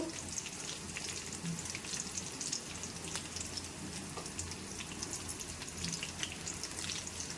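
Sliced onions go into oil where green chillies and curry leaves are already frying, giving a soft, steady crackling sizzle with faint light popping throughout and no voices.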